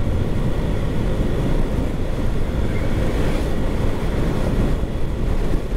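Strong wind buffets the microphone during a Suzuki Address scooter ride along the southern coast road, a loud, constant roar of rushing air with no talking.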